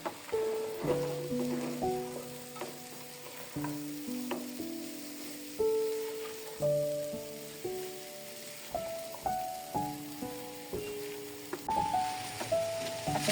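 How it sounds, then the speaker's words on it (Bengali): Winter vegetables are sautéed in a pan for thin khichuri. A steady sizzle carries repeated spatula scrapes and clacks at close range, with gentle background music throughout. "সবজিটা আমি একটু কষায় নিব দুই মিনিটের মতো"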